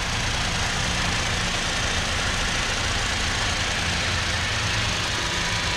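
A 2019 Toyota Tacoma SR5's 2.7-liter inline four-cylinder idles under the open hood, a steady, even rumble with broad mechanical hiss, constant in level throughout and heard close up with no voices.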